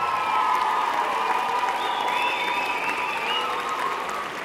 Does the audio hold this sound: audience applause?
yes